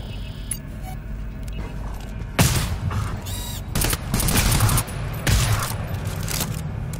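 Sentry gun in the game GTFO firing in several loud bursts, sharp repeated shots clustered in short volleys with brief gaps, near and dominant over a low mechanical background hum.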